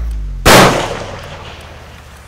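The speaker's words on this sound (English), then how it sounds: "Probably end up shooting the Daniel Defense 308." A single loud Daniel Defense .308 rifle shot cracks sharply at an outdoor range where exploding targets are set up, then decays into a long rolling echo that fades slowly.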